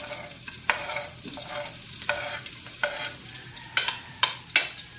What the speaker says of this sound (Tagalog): Kailangan mag-brown-brown muna yung bawang at saka yung ano, sibuyas.